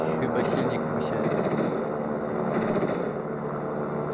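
Loud rattling bursts of aircraft machine gun fire in the video game War Thunder, several rapid volleys over a constant engine drone, with no talk during the firing.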